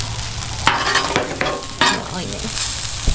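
Chopped onions fry in a hot pan with salt, a continuous close sizzle broken by several sharp scraping stirs, with no talking.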